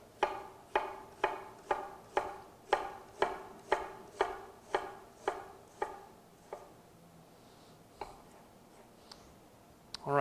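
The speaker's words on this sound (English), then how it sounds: "I'm going to try and dice this very fine" A knife finely dicing an onion on a cutting board, a steady run of crisp close chops about two per second that slows and thins out toward the end, no voices.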